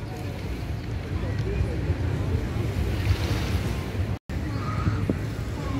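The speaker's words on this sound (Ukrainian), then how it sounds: "І трохи звуків води для вас. Я спеціально інколи в відео вставляю просто море" Sea waves roll onto the beach at Saranda, Albania, in the evening, a steady close wash and hiss of surf with wind rumble, interrupted by a brief cut near the end.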